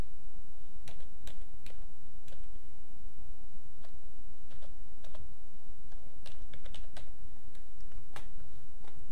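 Typing a name on a computer keyboard while designing a wedding invitation card in Photoshop: sparse, irregular key clicks, some in quick pairs, over a steady low room hum, with no voices.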